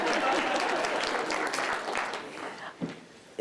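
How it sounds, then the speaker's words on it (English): A room full of people applauding a professor's talk, a dense round of clapping that holds steady and then thins out near the end, with a voice coming in faintly. "Oh, you're getting a round of applause."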